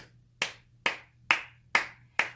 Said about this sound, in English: Let's clap our hands.